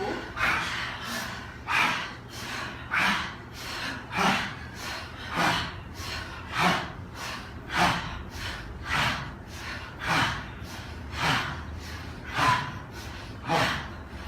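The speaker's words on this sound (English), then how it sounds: "Sometimes call this monkey ha breaths." Forceful yoga breathing known as monkey ha breaths, with about twenty rhythmic, evenly paced huffs of air in and out, close and steady throughout a guided class.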